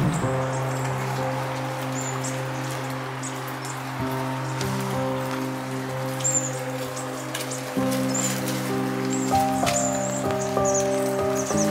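Rain falls steadily on a Los Angeles vegetable garden, a soft continuous patter with scattered drips, heard under prominent background music.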